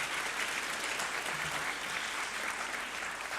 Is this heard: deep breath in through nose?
no